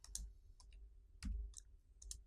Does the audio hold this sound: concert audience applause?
no